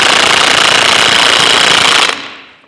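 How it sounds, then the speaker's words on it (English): A 1/2-inch drive impact wrench hammers on a 1-inch drive socket while working on the piston of the Vulcan steam locomotive, a loud, dense rattling burst for about two seconds that cuts off and rings down. "I got it going down to my 1/2-inch drive impact."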